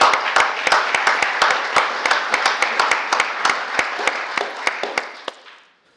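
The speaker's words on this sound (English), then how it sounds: "let's give both of them a round of applause real quick." A small audience at a work session meeting claps steadily, with distinct individual claps over a wash of applause that thins and fades out at the end.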